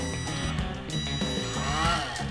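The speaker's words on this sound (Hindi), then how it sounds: "ये ESC वाली आवाज़ें हैं जो कि मोटर से आती है" A small DC motor run through an L293D driver board from an Arduino gives off a steady electronic whine with shifting tonal chirps and a rising-falling sweep, close and continuous, with no talking.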